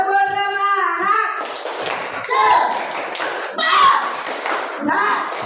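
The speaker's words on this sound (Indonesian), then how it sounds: "Tepuk semangat." A group of primary school participants claps in a rhythmic spirit-clap pattern, sharp taps and thuds in quick bursts, mixed with voices chanting along.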